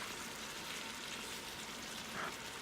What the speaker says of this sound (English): One more stir, and then we're just gonna let this simmer